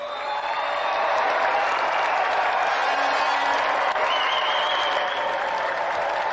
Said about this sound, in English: Let's have a warm round of applause for Tony the Lunatic Duray.